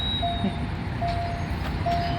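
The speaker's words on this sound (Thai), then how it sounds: "รถไฟมาพอดีครับ" Diesel express train no. 75, running from Bangkok to Nong Khai, passes beside the tracks with a steady, loud rumble and rolling noise, broken by faint, brief high tonal squeals.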